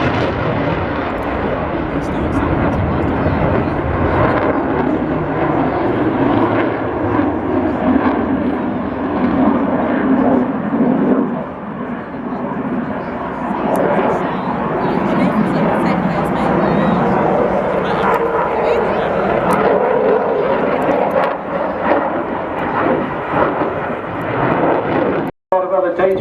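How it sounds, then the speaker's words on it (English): Fighter jet at a seaside air show roaring loudly and steadily with afterburners lit as it accelerates, a thick continuous rumble filling the whole stretch, with a commentator talking over it. "The burners kicking in again, accelerating again."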